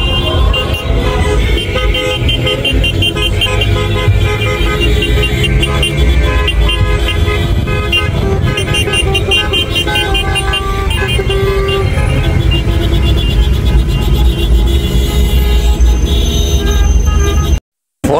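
Dense street noise of many car horns honking over one another at a ride-hailing drivers' protest in Porto Alegre, loud and continuous, with engines and crowd din beneath.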